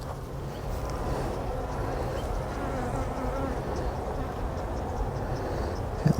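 Honeybees buzzing around an open hive during an inspection, a dense steady drone close to the microphone that carries on without a break for the whole stretch.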